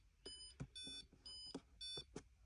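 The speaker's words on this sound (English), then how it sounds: "there's the alarm" An alarm on a DIY Raspberry Pi Pico W smart clock beeps in repeated short bursts of bright, tonal bleeps, evenly spaced and close, with small knocks between them.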